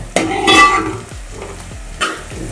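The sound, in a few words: peanuts frying in oil for khichdi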